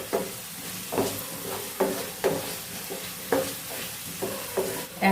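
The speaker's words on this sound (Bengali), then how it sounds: "এটা একটু ভালো করে নাড়িয়ে চাড়িয়ে নিই।" Kashmiri chili powder being stirred into a pasta sauce in a pan, a spoon scraping in a steady rhythm of roughly a dozen strokes over a soft sizzle, close and moderately loud with no talking.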